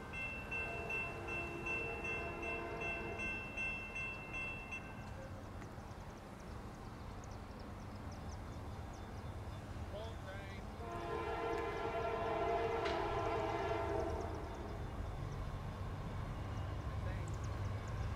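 A CSX southbound freight train rolls past with a steady rumble of wheels and cars, its horn sounding in long tones early on and again later, heard from trackside.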